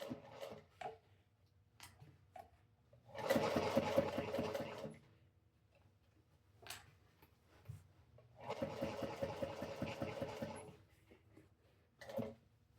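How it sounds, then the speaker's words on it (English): Two bursts of a sewing machine running fast while back stitching seams on a crossbody bag, each lasting about two seconds, separated by quiet pauses with small handling clicks and taps. "Back stitching at all your starts and stops."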